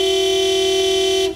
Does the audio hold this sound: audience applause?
no